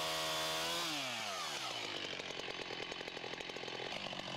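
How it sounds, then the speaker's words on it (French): Chainsaw cutting through a conifer during tree felling, sawing the hinge edge; the engine starts low, revs up sharply within the first second, then holds a loud, steady, buzzing cut close by. "puis scier le bord de la charnière."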